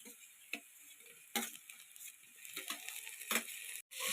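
Tomatoes go into a pan of frying fish masala, giving a soft, faint sizzle with scattered scraping and stirring clatters and a few louder spatula knocks.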